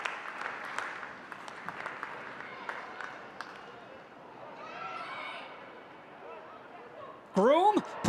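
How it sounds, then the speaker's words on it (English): Stadium crowd at a women's pro soccer match, Houston Dash against Orlando Pride, with limited fans present: a soft, distant wash of crowd noise and scattered claps beneath commentary, then a brief louder burst near the end. "You can hear the crowd."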